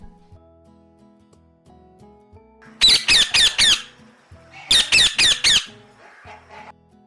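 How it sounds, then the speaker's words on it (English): A parrot squawks in two loud bursts, each a rapid run of four harsh, grating shrieks, heard up close with quiet between them. "parrot,"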